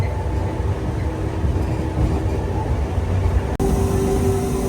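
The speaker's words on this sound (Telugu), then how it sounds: "మన ట్రైన్ క్రూజింగ్ స్పీడ్ ఇది" Kacheguda–Raichur MEMU train running at cruising speed, a steady loud rumble of wheels and carriage noise with a brief dropout near the end.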